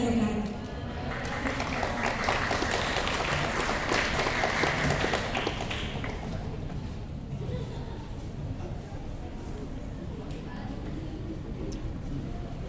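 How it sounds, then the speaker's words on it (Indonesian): Seminar audience applauding, a dense wash of many hands clapping that starts loud and slowly fades into a softer, thinning patter over about twelve seconds, with some voices mixed in. "Wow, tepuk tangan lagi dong teman-teman sekali lagi."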